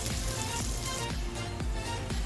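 Red peppers, onion, garlic and chopped lemongrass sizzle steadily in a hot pan, a constant loud frying hiss punctuated by a few soft taps or stirs, with no talking.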